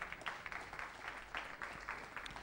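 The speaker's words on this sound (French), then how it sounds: "Applaudissons Jésus-Christ, alléluia." A church congregation claps together in a steady rhythmic beat, faint and somewhat distant, with the claps bunching into regular pulses.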